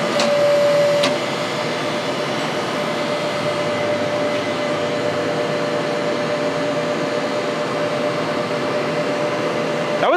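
H-frame hydraulic press crushing a 1-inch square mild steel rod, a loud, steady mechanical whine and hydraulic rush that holds evenly throughout, with a brief sharper sound near the start.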